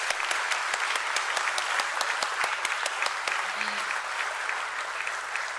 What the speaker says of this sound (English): let's have a huge round of applause for the company and for the team.